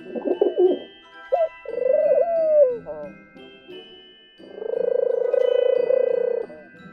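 A Harry Potter Hedwig owl purse pet toy plays electronic owl sounds when tapped on the forehead: short hoots, a rising and falling warble, then a long sustained cooing tone, loud and close with silent gaps between.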